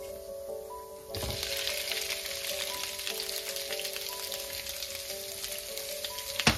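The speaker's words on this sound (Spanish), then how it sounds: "Enseguida le agregamos los camarones." Shrimp hit a hot pan with chopped garlic and start to sizzle. After a quiet second the frying crackle rises abruptly and holds steady, dense and close.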